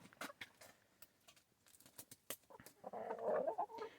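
Hens kept through the winter in Canada cluck and peck softly nearby, scattered taps and faint calls, then a louder burst of clucking toward the end.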